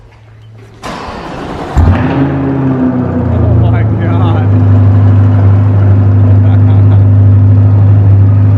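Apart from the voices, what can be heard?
sports car cold start, loud exhaust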